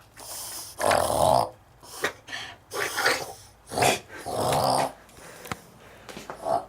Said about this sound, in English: Lucy, you make some of the weirdest noises.